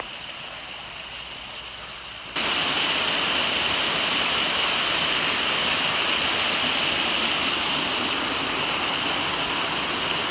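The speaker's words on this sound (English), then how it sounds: "it is so nice to be walking right along the creek like this" A creek flows beside a hiking trail in the Smoky Mountains, a steady broadband rush that jumps abruptly louder and closer after a couple of seconds and then holds constant.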